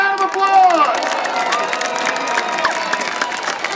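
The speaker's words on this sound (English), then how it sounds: "Give them a big round of applause!" Crowd at a school bus demolition derby at Riverhead Raceway cheers and shouts in a dense, lively roar, with a loud whistle or shrill voice near the start and an announcer's voice mixed in.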